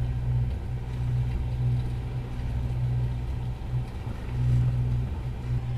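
Sailboat's inboard motor running steadily, a low constant droning hum with slight wavering, no voices.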